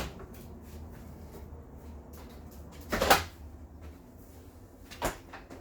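Cabinet doors on a 2020 Jayco Eagle 347BHOK RV open and shut. There are two distinct knocks, a louder one near the middle and a softer one near the end, against a quiet indoor hum.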